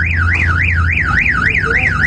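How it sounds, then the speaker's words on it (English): A car alarm going off in the pits at a racetrack, a loud wailing siren that sweeps up and down in a fast, regular cycle, continuous and close over low background rumble. "the car alarm's going on in the background"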